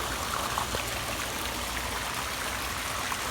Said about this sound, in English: But just listen to that waterfall.